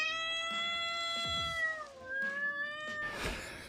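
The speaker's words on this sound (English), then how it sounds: "Her cat's running around in there wondering what's going on." A cat meows in a room, drawn-out tonal cries that slide in pitch, loud and close, with thumps and movement around it and no talk.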